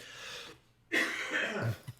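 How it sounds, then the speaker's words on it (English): Coughing from someone with a cold, heard close: a short breathy sound, a brief pause, then a harsher rasping cough fit that tails off into a couple of smaller throaty catches. "I'm coughing again on the tail end of my cold"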